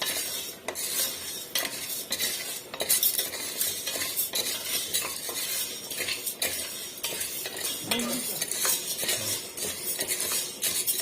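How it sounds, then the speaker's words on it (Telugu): Sago pearls are dry-roasted in a hot pan on the stove for halwa, stirred continuously with a metal spoon that scrapes and rattles against the pan, with a faint sizzle throughout. "సగ్గు బియ్యంని స్టవ్ మీద బాండ్లీ పెట్టాను, వేడైంది. లైట్గా వేయించుకోవాలి"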